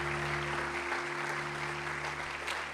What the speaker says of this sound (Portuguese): Dê um aplauso ao Senhor pela vida deles.